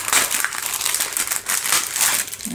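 Plastic packaging around foam paintbrushes is torn and crinkled open close to the microphone, a dense, continuous crackling rustle without talk.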